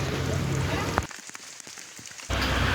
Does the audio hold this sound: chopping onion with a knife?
no